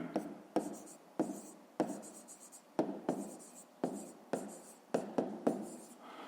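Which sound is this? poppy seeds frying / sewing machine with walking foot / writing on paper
writing on paper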